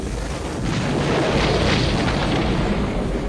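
A grenade explosion from a Star Wars film, heard as a loud, sustained booming roar that swells after a moment and rumbles on for several seconds without any talk.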